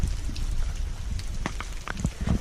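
Rain falling steadily outdoors during a hike on the Appalachian Trail, a soft broadband patter with scattered closer drops tapping on gear, continuous and moderately faint with no talking.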